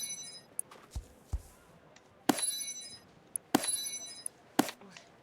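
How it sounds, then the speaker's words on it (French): Bell ringing in a video game, heard as several bright metallic rings at irregular intervals, each decaying quickly over a quiet background. "Oh non, la cloche vient de sonner."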